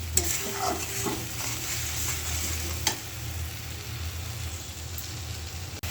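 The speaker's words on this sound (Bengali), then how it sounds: "এই যে আমার মশলাটা কষানো হয়ে গেছে" A spice paste of turmeric, chili powder, coriander powder and salt is stir-fried in a pan. It makes a steady, dense sizzle with an occasional clunk of the stirring utensil, and no voices are heard.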